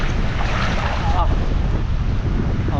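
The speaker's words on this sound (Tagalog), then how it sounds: "Ang hangin na. Lakas po naman ngayon." Strong wind buffets the microphone in a constant heavy rumble over a rice field, gusting loudly throughout.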